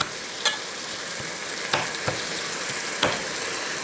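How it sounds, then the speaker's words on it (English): Kale and garlic sautéing in a pan, a soft steady sizzle with a few sharp clicks and scrapes of stirring, close and fairly quiet, with no talking. "So we start by sauteing this for a couple of minutes with the garlic."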